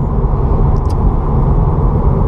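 A 2015 Subaru WRX being driven, heard from inside as a loud, steady low engine and road rumble, continuous and unbroken.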